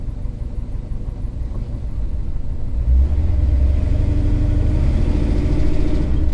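A truck fitted with a freshly rebuilt Holley carburetor with bigger jets pulls away on its first drive, engine rumble building and deepening as it accelerates, loud and close with a steady low drone and no talk.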